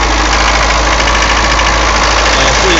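A Mercedes 240D diesel engine idles high with a fault that produces white smoke, a loud, steady, close droning rumble with a faint knocking texture and no talk.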